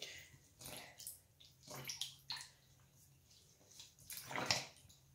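Water pours and splashes into a small bath for a Scruff-a-Luv toy pet, faint and close, arriving in several short irregular bursts with quiet gaps between them.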